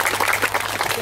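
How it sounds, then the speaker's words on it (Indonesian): A crowd at the Napak Tilas Pugung Raharjo festival in East Lampung applauds the regent, a dense patter of many hands clapping at once. "Mohon tepuk tangan yang meriah untuk Ibu Bupati."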